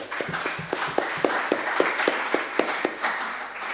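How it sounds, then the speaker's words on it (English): A conference audience applauds a panel at the close of a meeting: a steady patter of individual claps, fairly close and moderately loud, keeping an even rhythm throughout with no talking. "I kindly ask all of you to join me in a round of applause for the panel"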